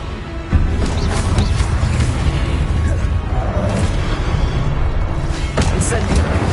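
A Confringo blasting spell explodes in the Hogwarts Legacy video game on PS5, a sharp boom at the start followed by a dense, sustained rumble of battle noise with whooshing bursts throughout.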